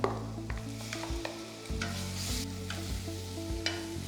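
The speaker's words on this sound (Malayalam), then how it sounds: "ഇനി ഇതിലേക്ക് നമ്മൾ അരച്ചു വെച്ചേക്കുന്ന ഈ മസാലയിനകത്തേക്ക് ചേർത്ത് നന്നായിട്ടൊന്ന് വഴറ്റിയെടുക്കുക." Ground masala paste sautéing in a pan while it is stirred, a steady close sizzle broken by repeated scraping stirs, for mattar paneer.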